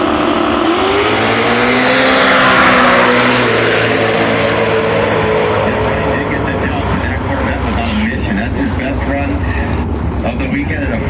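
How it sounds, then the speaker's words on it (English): A turbocharged C5 Corvette and a turbocharged 1989 small-block Ford Fox launch at an eighth-mile drag strip, loud rising engine roar and revving that peaks then fades into a crackling drone, with an announcer talking over it. "Up next is Aaron in his turbocharged C5 Corvette."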